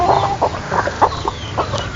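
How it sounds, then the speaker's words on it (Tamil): Roosters and hens on a farm cluck and call in a busy, close stream of short bursts, loud and continuous. "இந்த சேவல்லாம் நம்ம ஆல்ரெடி பார்த்துருப்போம்."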